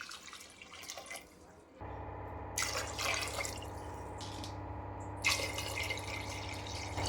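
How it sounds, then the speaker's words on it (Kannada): Water poured from a big glass into a cooking pot for bisibele bath, heard as about three separate splashing pours over a steady kitchen hum. "ನಾನು ದೊಡ್ಡ ಲೋಟಲಿಂದ 3 ಲೋಟ ನೀರು ಹಾಕ್ತಾಯಿದ್ದೀನಿ ನಾನು"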